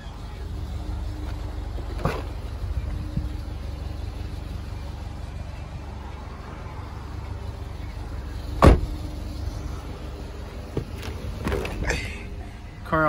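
Inside a 2005 Subaru Baja, the electric sunroof runs with a low, steady motor hum, broken by a sharp clunk near the end of its travel.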